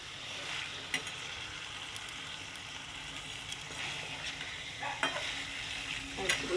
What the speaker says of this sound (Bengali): তো মাংস দেওয়া হয়ে গেল, একটু কষানো হোক।